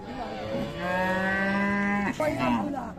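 A Friesian cow at the Raniganj cattle market in Ghoraghat, Dinajpur, gives one long, close, loud moo, followed by a short grunt over faint market background noise.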